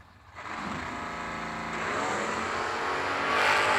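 A small block Chevy powered 1986 Mustang launches in a drag race, its engine rising quickly to a loud, sustained high-revving roar that builds and climbs in pitch over a few seconds.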